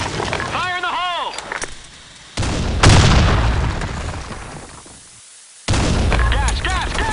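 A grenade blast in a shooter video game lands as a loud, sudden boom with a long rumbling tail, among game noise and voice callouts before and after.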